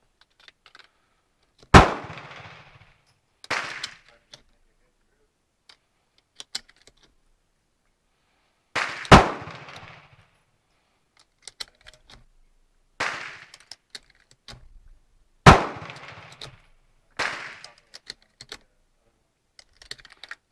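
A Star BM all-steel pistol fires an 8-round magazine of Turkish ammunition, giving sharp, loud single shots with uneven gaps and short echoing tails in an otherwise quiet setting.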